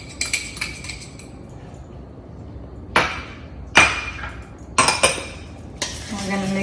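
Buttermilk is mixed into chocoflan batter in a bowl, with sharp clinks and knocks of a utensil against the bowl coming in uneven bursts over a low background, separated by quieter stretches.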